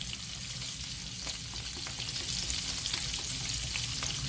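A shrimp and onion mixture fries in a pan for shrimp scampi, making a low, even sizzle that swells slightly toward the end. There is no talking.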